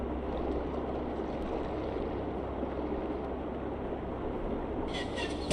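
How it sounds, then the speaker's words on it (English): A steady, rough engine drone with a sputtering character from a small plane in a video game, continuous and moderately loud throughout, with a brief higher-pitched sound near the end. "That engine sounds like it's dying."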